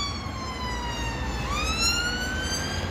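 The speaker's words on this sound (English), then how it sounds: "Ambulance." A wailing ambulance siren in Bognor Regis, West Sussex, UK, sweeps steadily through its rising and falling tones, fairly close and continuous over a low road rumble.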